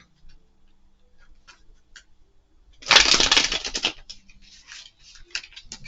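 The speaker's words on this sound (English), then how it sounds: "every time I try to shuffle, like these cards pop out" Tarot cards are shuffled in one brief, rustling riffle, surrounded by faint, sparse ticks in an otherwise quiet room.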